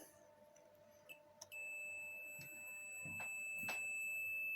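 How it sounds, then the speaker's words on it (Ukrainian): A thin, high electronic tone sounds continuously after a couple of short clicks from a 2E VM-2K24 2000 device under repair with a fault on its high-voltage side, holding steady under faint background noise and rustling. "а воно продовжує пищати"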